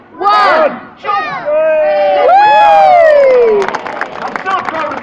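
Audience at a sea lion show at Flamingo Land bursts into loud, close cheering and shouting, children's voices prominent, with clapping rising at the end.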